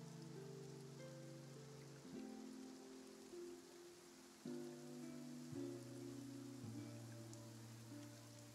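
Steady rain falls in the game Genshin Impact, a soft continuous patter heard beneath sustained background music that shifts chords every couple of seconds.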